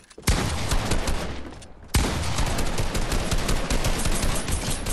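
Dense, sustained automatic gunfire from the video game Fortnite, loud and continuous with a brief drop near two seconds before the volley resumes at full intensity.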